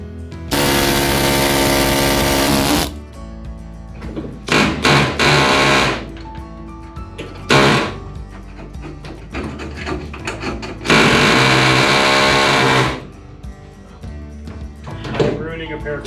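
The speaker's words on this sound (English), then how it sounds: "And we're just gonna punch out all the holes that we can." A power tool punches out rivets on a bus roof in several loud bursts of a few seconds each, separated by quieter stretches with short knocks and clatter.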